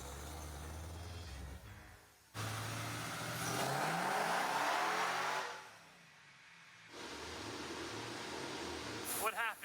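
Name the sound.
Hellcat-engined Nissan 350Z revving on a dyno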